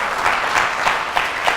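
A church congregation gives a short burst of applause during a sermon, thick steady clapping that sounds close and fairly loud.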